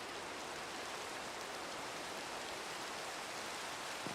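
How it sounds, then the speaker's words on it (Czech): Steady rain in the video game Minecraft hisses as even, fairly faint noise throughout, with no voices over it. "Tak se půjdeme vyspat, ať tady přestane pršet."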